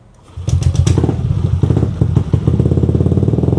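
A small Aerox motor scooter engine, unladen, revs and runs loudly, its exhaust a steady throbbing putter close by after a brief quiet start.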